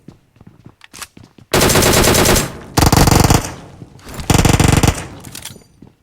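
An Uzi submachine gun fires in the video game PUBG Mobile: three loud, rapid-fire bursts, each lasting about a second, with short pauses and faint quieter sounds before the first burst.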